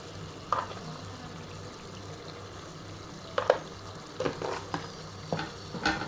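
Stirring ridge gourd and dried prawn curry in a pan, with a steady low sizzle and several scraping strokes of the spoon, the strongest of them clustered in the second half.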